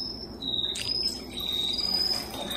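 A performer's voice imitates crickets, giving a steady high, thin chirping trill that runs almost unbroken through the moment, fairly close and clear over a faint low background.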